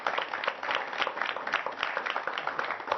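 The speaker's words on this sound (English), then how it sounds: "You guys give them a big round of applause for hosting today." A small group at a home party claps for the hosts, producing brisk, close, moderately loud applause with distinct individual hand claps, steady throughout.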